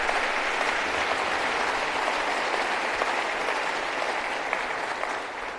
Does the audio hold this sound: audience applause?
yes